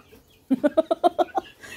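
A rooster near a group of hens lets out one loud, close crow broken into a rapid run of about seven pulses, with nobody talking.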